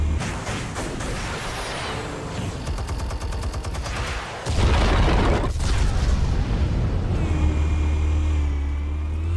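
Explosives detonate in a Batman Telltale Series game scene, a loud continuous barrage of booms and crackling blasts that swells heavier halfway through, with no talking.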